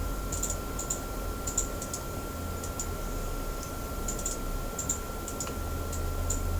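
Rapid mouse clicks tap through a sports mental-support app questionnaire, quick light ticks arriving in irregular clusters over a steady faint electrical hum, with no voices.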